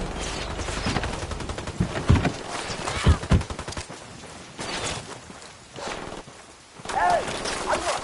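Bursts of rifle fire in the video game Ghost Recon Wildlands crackle through a busy mix of footsteps and movement, with voices talking over the shooting.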